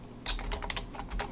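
Keys clatter on a computer keyboard in a quick, close burst of uneven taps while a database schema is entered, with no voices present.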